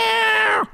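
A single clear meow, loud and close, that falls in pitch at the end and then stops.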